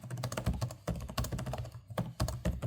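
Keys clack on the keyboard of a 2025 Asus ROG Flow Z13 gaming tablet, a quick uneven run of close, crisp taps with brief pauses between bursts.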